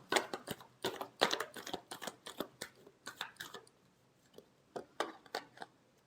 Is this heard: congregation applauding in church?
no